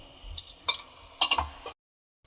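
Lentil dumplings (bori) frying in oil for a tilapia fish curry, with a steady low sizzle broken by a few sharp clinks and stirring knocks, ending abruptly in silence.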